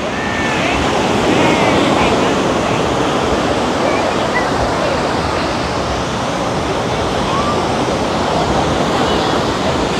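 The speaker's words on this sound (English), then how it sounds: "We're going to step down onto the beach." Surf on Kuta Beach in Bali gives a loud, steady roar of breaking waves mixed with wind noise on the microphone. Crowd murmur may lie underneath.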